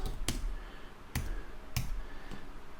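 Someone typing on a computer keyboard while making a logo in Photoshop: a handful of sparse, quiet clicks spaced irregularly apart against a faint room hush.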